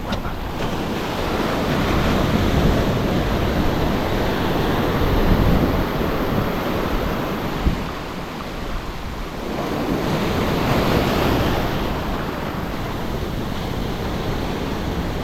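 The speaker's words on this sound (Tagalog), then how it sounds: "Basagan ng alon. Low tide." Waves break and wash onto the shore at low tide in a continuous roar that swells and recedes in slow surges, mixed with wind noise.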